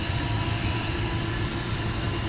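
An Australian double-decker passenger train rumbles steadily throughout, a continuous low mechanical drone with broadband rolling noise and no voices.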